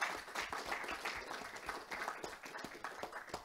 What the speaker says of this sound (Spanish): quiero también brindarle un fuerte aplauso al